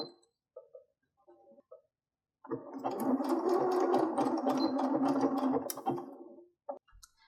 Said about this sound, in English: If you have the option on your sewing machine, you can increase the width of your zigzag stitch.